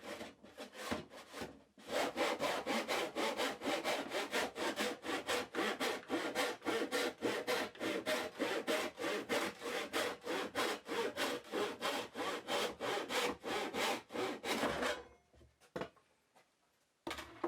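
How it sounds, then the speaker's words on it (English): A hand tenon saw cuts through a wooden board with fast, even back-and-forth rasping strokes, close and steady for about thirteen seconds before stopping. "I'm going to use a tenon saw"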